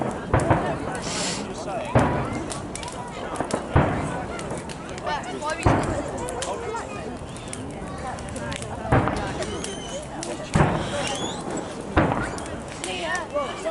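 The fireworks finale at Legoland Windsor, heard from a distance, booms in sharp bursts about every two seconds over a crackling rumble, with people talking nearby.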